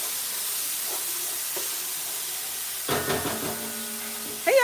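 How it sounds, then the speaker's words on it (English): Onions, garlic and habanero pepper stirred into a hot pot for Liberian jollof rice, giving a steady close sizzle and hiss with a few scraping stirs near the end. "we're gonna go ahead and add our veggies, our onions, garlic, and habanero pepper. I'm gonna stir it in there."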